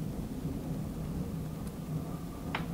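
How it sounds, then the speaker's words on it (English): Steady rain with a low continuous thunder rumble, heard alone with no talk, a faint brief crackle near the end. "I think it's raining."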